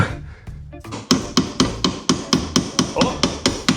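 Hammer tapping on a car coilover suspension part during installation, about eleven sharp metallic strikes in a fairly steady rhythm, close and loud, with no talking.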